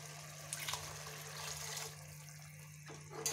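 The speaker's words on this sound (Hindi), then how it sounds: "अब इसमें हमने करना है पानी ऐड।" Water being poured into a pot of roasted white lentils (urad dal), a steady close splashing wash running for a few seconds, with a strong low hum underneath.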